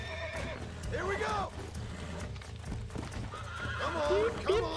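A horse in the Red Dead Redemption video game whinnies in two sharp bursts while being tamed, with hooves clopping beneath and someone talking over it.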